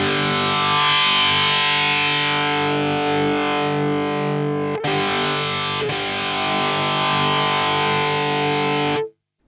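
Distorted electric guitar fed through a Master Effects parametric EQ pedal with one band's gain turned right up, sustained chords ringing loud and alone, with two brief dropouts before cutting off near the end.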